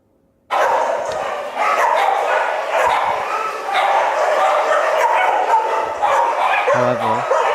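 Many dogs at a shelter bark and yip together in a loud, constant, close chorus that starts abruptly and continues without pause, with whimpers mixed in.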